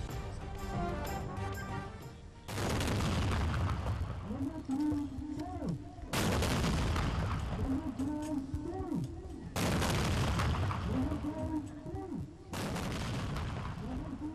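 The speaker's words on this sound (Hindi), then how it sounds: "इस्लामाबाद में 31 और सूबाई दारुल हुकूमतों में 21-21 तोपों की सलामी।" A ceremonial cannon salute for Independence Day in Islamabad: loud, deep booms fire one after another at intervals of about three to four seconds, each rolling into a long echoing rumble, with faint talk beneath.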